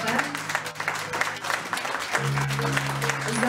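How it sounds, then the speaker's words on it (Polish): Guests at a banquet in a Warsaw restaurant clap together, a dense moderately loud patter with sharp individual claps, while a steady musical tone runs underneath in the second half. "Wielkie brawa, Monika Mątkowska, raz jeszcze."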